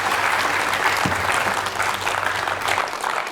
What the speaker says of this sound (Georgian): აპლოდისმენტები ილიამს